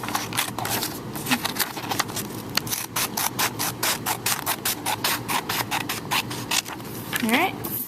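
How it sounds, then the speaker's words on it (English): Scissors slice a folded half sheet of paper into two strips, giving repeated close crisp snips and rustles in a steady rhythm, with a voice speaking faintly at the end. "I'm going to cut it into 2 strips"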